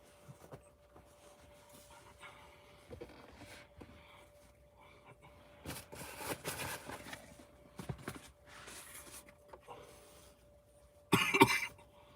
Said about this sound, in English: I'm coming over a cough, so just bear with me.